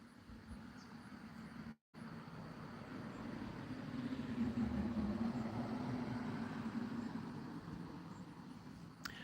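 Occasional road traffic passing a yard, heard as a vehicle rumble that slowly swells and fades, fairly distant, with a brief dropout near the start.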